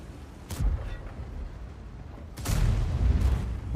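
Two heavy booming tank cannon blasts in World of Tanks, the second louder and longer with a rumbling tail, over a constant low background rumble.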